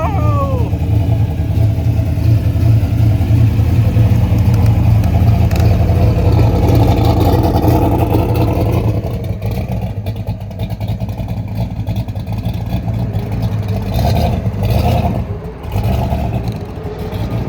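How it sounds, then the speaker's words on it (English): A big-block, single-turbo drag race car engine at a PDRA Super Street test session rumbles loud and close, then revs and roars as it heads toward the staging lanes, with steady crowd and track noise around it. "It is a big block with a single turbo on it."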